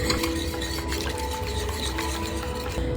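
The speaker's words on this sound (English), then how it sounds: "you're going to take your sourdough whisk and you're going to whisk it until it turns into a milky consistency." A sourdough whisk stirs starter and water into a milky liquid, producing close, rapid wet swishing and faint clinking against the bowl, steady throughout.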